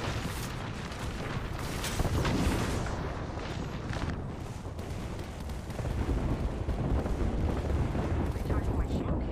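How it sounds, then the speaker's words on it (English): Grenade blast in a shooter video game amid a firefight: dense, continuous booming and gunfire rumble with heavy low-end thumps around the middle and end, under scattered game voices. "Look out, grenade!"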